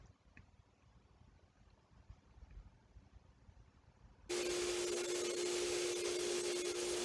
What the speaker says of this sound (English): hooking it up to a vacuum cleaner